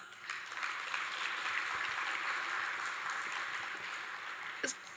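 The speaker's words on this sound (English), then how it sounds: "Give a round of applause." Sustained audience applause at a tech conference talk, a dense even wash of clapping that holds steady for several seconds, with a brief louder clap near the end.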